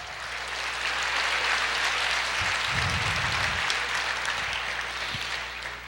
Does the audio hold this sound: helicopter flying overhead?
no